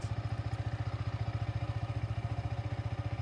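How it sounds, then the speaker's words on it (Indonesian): A Yamaha XSR 155 motorcycle engine runs close by at a steady idle, with an even, rapid low thumping throughout and no other sounds. "Kemudian jika dikebawahkan akan kita hidupkan motor ini"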